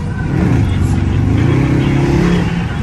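A Dodge Scat Pack with a 6.4L engine drones loudly as it revs on the I-76 West highway, a steady, close, rumbling roar that holds through the whole stretch, with someone talking over it.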